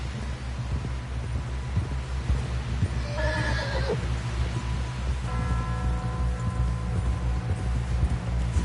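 Horse in the video game Red Dead Redemption 2 gives a clear whinny over a steady low rumble of hoofbeats and ambient hum, followed by a softer snort, with no talk.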